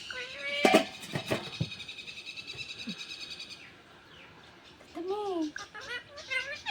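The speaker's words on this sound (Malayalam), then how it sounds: "പൂച്ച വന്നോ മോനെ?" A cat meows a few times, with a clear rising-falling call near the end, amid clattering and faint background chatter.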